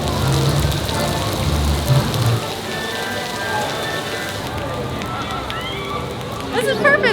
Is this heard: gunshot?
no